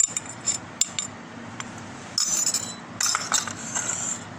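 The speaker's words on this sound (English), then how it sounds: "I mix these well, all these dry ingredients" Dry ingredients for nan khatai biscuits, all-purpose flour, semolina, baking soda, baking powder and cardamom powder, are stirred in a bowl: light clinks and scrapes of a utensil against the bowl, irregular and close, with a few brief rustling stretches.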